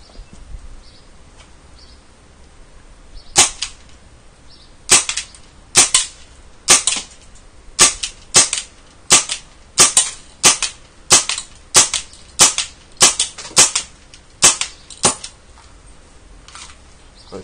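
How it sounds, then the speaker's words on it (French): Umarex HK USP Match gas airsoft pistol firing at a target about 10 metres away, a series of roughly fifteen sharp, loud snapping shots in a steady rhythm, close and alone. "Donc je vais vider le gaz quoi dessus, je rechargerai entre temps et on verra après ce que ça donne."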